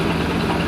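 Boat engine with a stern drive idling in reverse, a steady, loud, low rumbling drone with even pulsing throughout the short stretch and no speech.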